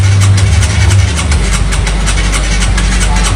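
Motorcycle engine started with the electric starter button, a brief low rumble catching and settling into a steady, loud, close idle.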